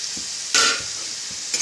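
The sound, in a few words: tomatoes added to sizzling onions in chicken gravy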